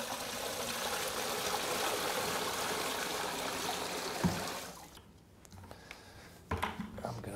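Water from a floor fountain trickles and splashes steadily, a soft continuous wash that drops away partway through, leaving quieter scattered clicks and knocks.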